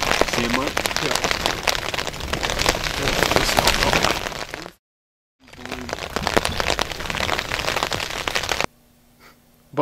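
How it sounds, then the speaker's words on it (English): Rain patters hard and steadily through woods during a Wisconsin turkey hunt, close and dense with a crackling texture, broken by a brief silent gap and ending in near quiet. "We were expecting rain"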